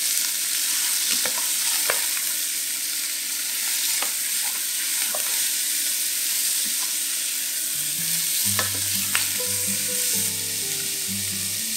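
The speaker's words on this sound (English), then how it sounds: "Brown the bottom side of the pork belly, then flip it over and brown the other side." Pork belly browns in a pan with a steady, continuous sizzle of rendering fat, scattered pops and occasional clatters of stirring, a low hum in the background for the last few seconds.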